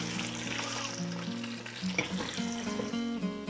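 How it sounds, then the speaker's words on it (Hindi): Okra and ridge gourd fry in a pan with a constant crackling sizzle, set against a steady tonal hum in the background. "अब हम इसमें ऐड करेंगे भिंडी तोरी। इसको हम हल्का सा फ्राई कर लेंगे।"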